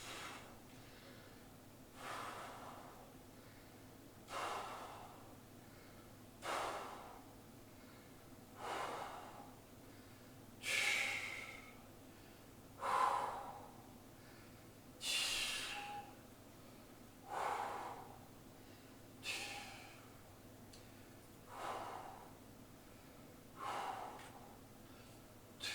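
Heavy rhythmic breathing during a bodyweight muscle-building exercise, about a dozen loud exhales and snorts spaced every two seconds or so, close and clear with no talking.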